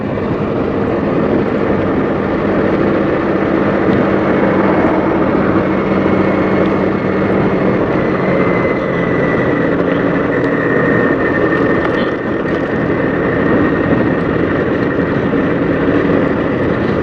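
Motorcycle speeding along the Ajmer–Jaipur highway, a steady, loud broadband roar of engine and wind rushing past without a break.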